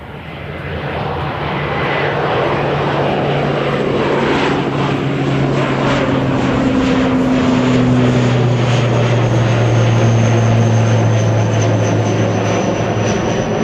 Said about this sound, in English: now we're going to get some takeoffs